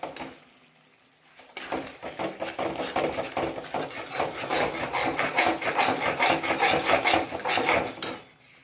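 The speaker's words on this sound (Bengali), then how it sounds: "এই যে চিকেনের মশলাটা কষছি" Chicken masala being stirred and fried in a pan, a spoon scraping and rasping against the metal in quick repeated strokes over a low sizzle, starting abruptly and stopping near the end, no talking.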